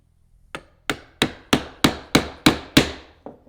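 A chisel chops into wood with a run of eight crisp mallet strikes. They land at a brisk, regular rhythm, start soft, build to firm hits, then end on a lighter final tap, close up and alone.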